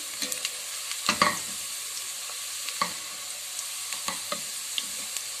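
Curry leaves and white cumin are stirred into dark-browned onions frying in a pot. A soft, steady sizzle runs under occasional spoon taps and scrapes, with a brief louder flare early on.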